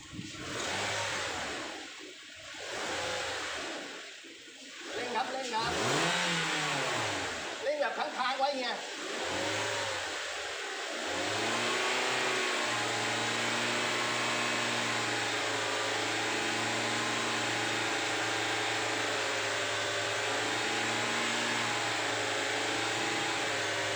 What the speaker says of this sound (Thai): เล่นเครื่องเลยครับ